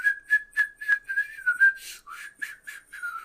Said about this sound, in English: I can't hardly whistle anymore because I'm smiling.